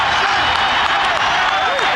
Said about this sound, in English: Upset City today here at the Vet, and the crowd is loving it